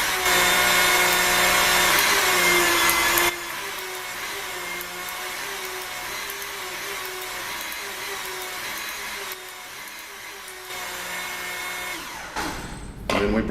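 Powered torque wrench with a reaction arm working to break a bolt loose: a steady, loud motor whine holds throughout, easing slightly partway and ending with a brief clatter.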